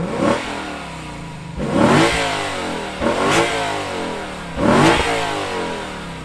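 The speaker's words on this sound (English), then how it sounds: "Now we rev it up" A 2022 Lexus IS 500 F Sport Performance V8 sedan revs loudly in four sharp bursts, each rising quickly then settling back to a steady idle between blips, heard up close with no talking.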